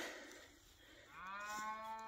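A loose cow in a farm field gives a single drawn-out moo that rises partway through, clear and moderately close over quiet outdoor background.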